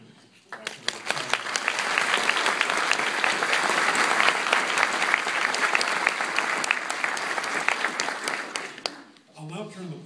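An audience at an award ceremony breaks into sustained applause, many hands clapping steadily for several seconds before it fades out near the end.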